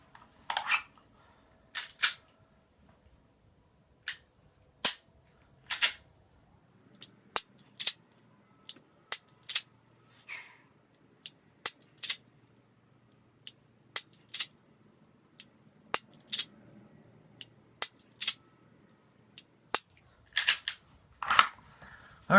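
Dry-fire practice on an unloaded gun: a long series of sharp, close clicks from the trigger breaking and resetting, spaced irregularly about one per second against near silence.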